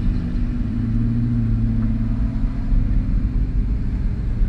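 An Aston Martin supercar engine rumbles steadily and close at low pitch, a smooth continuous drone as it pulls away, with no talk over it.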